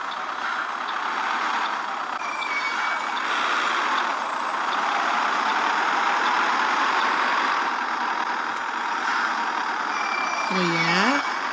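City bus on line 541L between Nova Iguaçu and Cascadura, its engine droning steadily up close from inside, with a rising whine and a brake hiss near the end, people talking faintly over it.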